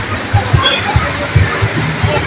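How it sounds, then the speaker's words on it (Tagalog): Clear running water flows at a resort, a constant loud rushing wash with low sloshing pulses and no speech. "napakaganda po ang running water po ito."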